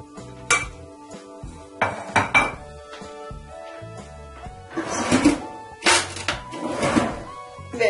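Chocolate truffle mixture being stirred in a bowl, with repeated clinks and scrapes of a utensil against the bowl in irregular bursts, close and fairly loud.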